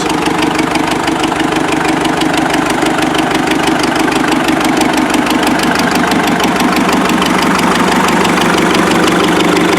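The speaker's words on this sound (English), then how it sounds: "I was going to get this one running to pull the 400 off the trailer" 1957 Farmall 450 gas-start diesel tractor engine running at a steady idle, a loud continuous knocking chug with even rhythm throughout, close to the microphone, no talking.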